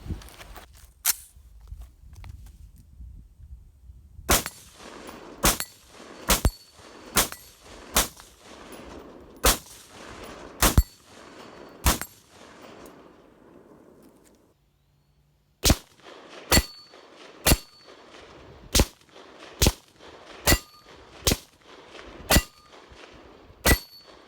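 Shots from a 5.56 pistol fired at steel targets about 50 yards away, on an improvised target stand: sharp reports with metallic rings, in steady spaced runs with a short pause between strings.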